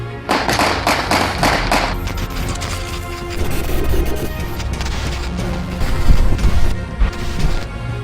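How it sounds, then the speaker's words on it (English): Gunshots fired in a barrage during a police shooting, captured in news footage as a rapid burst of sharp cracks and bangs, loud and dense, with a rougher crashing stretch later on. "Moments later, a barrage of bullets killing him."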